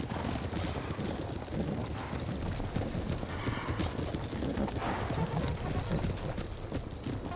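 Cavalry hooves from Empire: Total War, with colonial horse and light cavalry on the move, form a dense, continuous clip-clop drumming of many horses at once, steady and fairly loud for the whole stretch.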